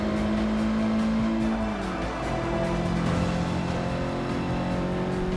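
A race car in Forza Motorsport 6, heard from the hood view, drives through turns with a steady loud engine drone whose pitch dips and then climbs again, as if easing off and accelerating, with a faint hint of tire noise.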